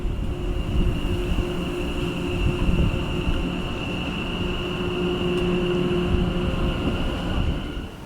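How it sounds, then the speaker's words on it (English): Inside a moving train on the Cross City Line, a continuous low rumble of wheels and motor with a steady high whine over it, no talking. "let's hop back on the same train that I came in on and go to the next station of the line"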